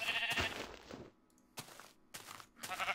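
A couple of bleating sheep calls in Minecraft in quick succession, fairly close, with soft crunchy steps between them.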